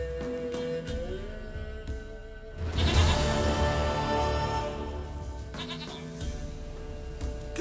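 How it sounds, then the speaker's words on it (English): A goat in The Witcher bleats in a repeated, wavering call, loud and close, over soft game background sound. "Goat of mine, dearest, sweetest goat."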